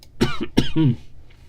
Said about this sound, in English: This cough won't go away.